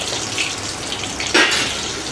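Crispy mushroom 65 fries in hot oil with a steady, broadband bubbling hiss and one louder sputtering burst near the end.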